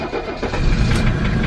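An old Mercedes engine turns over and fires, a loud, rough, continuous rumble with no talk over it.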